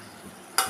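A spoon stirs chili potato with tomato, soy and chili sauces in hot white oil in a pan, a soft faint scrape with a brief louder sizzling burst near the end.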